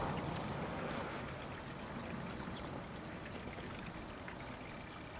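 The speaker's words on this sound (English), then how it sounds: "I hear a lot of water trickling through this gutter." Steady, continuous trickle and splash of water draining through a roof gutter on an icy roof, fairly even throughout with a faint hiss, no voices.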